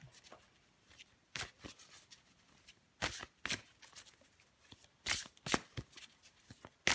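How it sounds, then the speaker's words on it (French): Tarot cards being shuffled and drawn, heard as several crisp riffling bursts separated by quieter pauses, close and fairly loud, with no talking. "Je vais encore tirer une carte pour vous, les scorpions."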